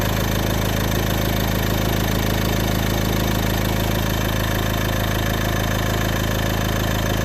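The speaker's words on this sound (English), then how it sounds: "the car is running with the ECU open" A 2010 Ford Galaxy 2.0 TDCi diesel idling with its ECU opened up while fault finding a cutting-out problem, giving a loud, steady, unbroken engine drone with a constant low hum and no voices.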